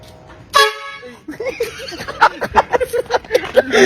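A loud horn honks once in a short blast, followed by excited laughter and chatter from nearby people.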